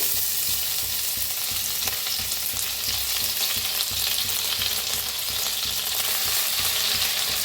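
Crushed garlic, ginger and green chili fry in hot oil in a heated kadhai, giving a steady, loud, continuous sizzle with faint stirring scrapes underneath and no voices.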